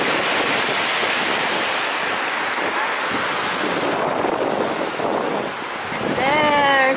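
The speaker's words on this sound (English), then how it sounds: "There's a big waves." Loud rushing surf of big ocean waves breaking, heavy with wind buffeting the microphone, with a brief tonal sound near the end.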